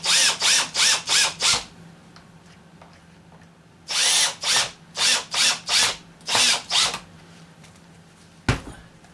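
A power driver runs screws tighter while mounting a turkey wing onto a War Bird Indian face carving: two sets of short, loud, rhythmic whirring bursts, five then six, separated by a quiet pause, ending in a single sharp knock.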